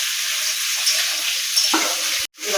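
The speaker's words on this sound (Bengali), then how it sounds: "এবার এই ভাজার মধ্যেই আমি আলুগুলো দিয়ে দেবো" Potatoes and onion fry in a pan with a steady close sizzle. Near the end the sizzle flares briefly, then a sharp clatter is followed by a short break before the frying sound returns.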